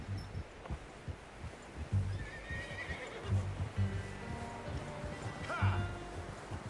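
A horse in the video game Red Dead Redemption whinnies, with rising neigh calls standing out over game sounds, soft thumping and hoof clops, and a brief spoken voice underneath.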